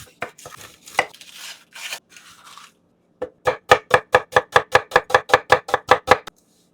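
A knife chops a piece of onion on a cutting board, a few irregular cuts first, then a fast, steady run of about fifteen sharp, close knocks.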